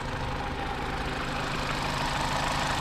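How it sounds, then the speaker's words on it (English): A Vauxhall car engine idling at close range, a steady low rumble with a faint even knock and no voices. "Engine's nice and quiet."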